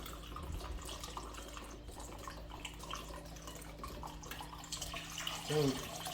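Chicken broth pours steadily into a pan, a soft continuous splashing trickle with a faint low hum underneath.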